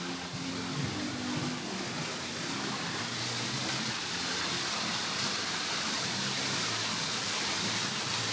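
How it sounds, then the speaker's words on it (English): A fountain waterfall at the entrance of the Shades of Green resort at Disney World gives a steady, full rush of splashing water that never lets up, with faint traffic noise underneath and no talking. "I do like this fountain."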